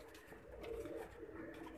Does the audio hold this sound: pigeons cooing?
yes